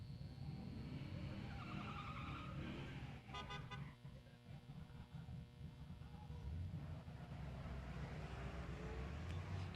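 At a drag strip during a Sick Week racing event, a drag racing car skids with loud tire squeal and road roar, easing briefly before the noise builds again, with crowd voices in the background.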